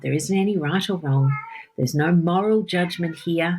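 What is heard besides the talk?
cat meowing in the background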